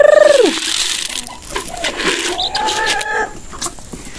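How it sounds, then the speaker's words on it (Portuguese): Farmyard chickens loose from an open gate, loud close clucking and squawking calls overlapping continuously throughout. "As galinhas, eu deixei a cancela aberta, a gente saiu todas."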